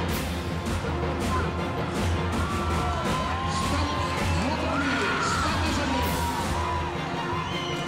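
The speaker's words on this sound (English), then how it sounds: "The crowd is really starting to get heated up, cheering on their favorites." Crowd cheering and whooping at a South African Saddlebred horse show championship, a dense, steady roar of many voices with scattered yells and shrieks throughout, loud and continuous with no pauses.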